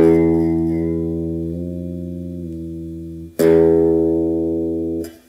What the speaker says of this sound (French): la note reste la même malgré les tours que je peux faire à la tête